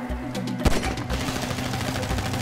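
Gunfire in Grand Theft Auto, a sharp crack followed by a rapid stream of shots, close and loud, with an engine-like hum underneath.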